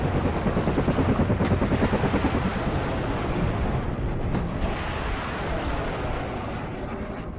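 A helicopter in the WARNO war strategy game gives a loud, steady rotor roar with a rapid pulsing beat early on that eases slightly as it continues, heard alone.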